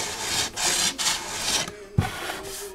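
A Permagrit carbide rasp is drawn over body filler in repeated rough scraping strokes, about five close, rhythmic passes.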